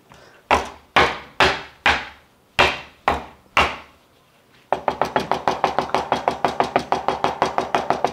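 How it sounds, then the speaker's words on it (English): A big kitchen knife strikes thin garlic slices on a wooden board: about half a dozen loud, separate thumps close by, then a fast, even run of sharp chopping taps, with no talking. "you just take your big knife like this and just flatten it"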